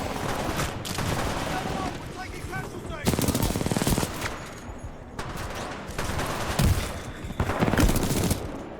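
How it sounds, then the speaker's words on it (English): Rapid bursts of submachine-gun fire in Titanfall 2 rattle in repeated volleys across the whole stretch, loud and close, broken by short pauses, with battle noise and a voice talking over parts of it. "There we go, rapid fire SMG, that's better."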